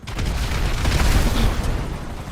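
Explosions in GTA Online, a dense, continuous low rumble of blasts and debris that stays loud and close throughout with no clear gaps and no speech.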